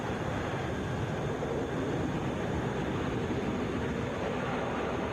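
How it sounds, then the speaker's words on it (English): A Delta Boeing 717 airliner at Atlanta airport roars steadily from a distance, a broad, continuous jet rumble with no break and no voices over it. "That is Delta 709 going to Bentonville, Boeing 717."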